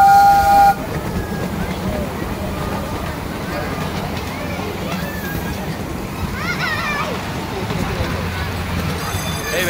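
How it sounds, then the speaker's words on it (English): A miniature railway train rumbles steadily along with a brief whistle near the start, while people chat and a voice sounds over the clatter. "The other train's loading up now."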